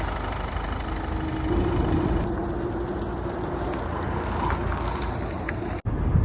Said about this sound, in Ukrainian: послухайте, як собі працює мотор. Мотор працює як швейцарські часи, ідеально просто.